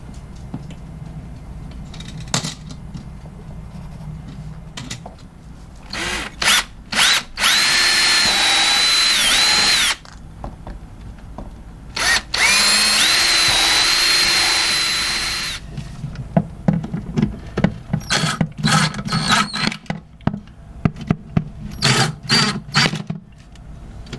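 A power drill driving a couple of small set screws on a boat, heard in two long steady whirring runs with short bursts and stutters before and after, close and loud.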